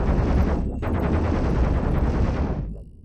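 Spaceship weapons in Cosmoteer fire in a rapid, dense stream of shots, loud and steady for nearly three seconds before cutting off abruptly.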